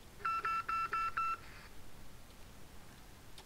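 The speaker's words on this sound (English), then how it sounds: "There's a phone ringing right now." Inside a building in Call of Duty: Modern Warfare (2019), a phone sounds as a quick series of five bright electronic beeps, then stops, leaving low background noise.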